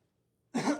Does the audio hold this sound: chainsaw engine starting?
no